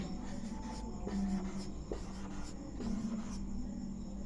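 Numbers being written by hand with a pen on paper, soft scratchy strokes coming in short bursts close by, over a low steady hum.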